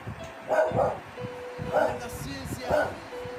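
Dog barking indoors in three separate bursts of yapping barks, close and fairly loud, with a faint steady tone running underneath.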